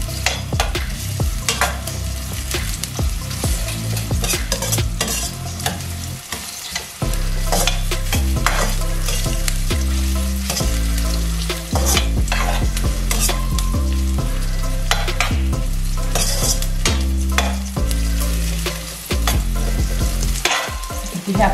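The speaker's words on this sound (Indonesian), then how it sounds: "Sampai lemes ya bawang bombaynya." Onions being stir-fried until soft in a pan, steady sizzling under repeated scraping and clanking stir strokes in an uneven rhythm, close and prominent with no voices.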